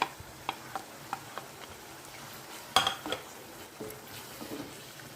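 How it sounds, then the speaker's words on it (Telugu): Chopped tomatoes added to a pan for Maga fish pulusu, a curry with curry leaves, giving a run of light metallic clinks and taps over a low background hiss, with a louder clatter midway. "కట్ చేసి పెట్టుకున్న టమాటాలను కూడా వేసుకుందామండి."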